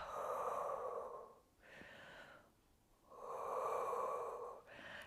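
Slow, deep breaths drawn in and let out during a standing Pilates calf stretch, two long close exhalations with a softer inhale between, each breath clear and unhurried with no talking.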